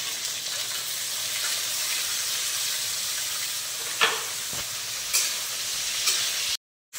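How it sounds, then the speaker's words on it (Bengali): Continuous sizzling of chopped bitter gourd frying with onions in a pan, with a few sharp scrapes and clinks of stirring at intervals. "দিয়ে দিলাম কুচিয়ে রাখা উচ্ছেগুলো।"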